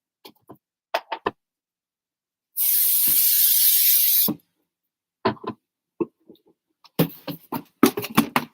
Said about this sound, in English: Just pop that in my box and give that a spray.